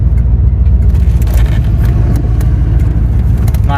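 A Corvette's engine drones loud and close while driving, a steady low rumble with a constant even note and no talk.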